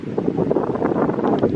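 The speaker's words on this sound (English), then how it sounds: "the wind picked up, and it's really quite windy up here now" Wind buffeting a microphone on a mountain top in the Colorado Rockies, a loud rumbling gusty roar that stays steady throughout.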